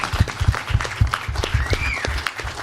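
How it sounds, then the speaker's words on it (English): Audience applause at a hacker conference talk, a loose patter of hands with dull low thumps and scattered sharp claps, moderately loud, holding steady for a few seconds. "a round of applause"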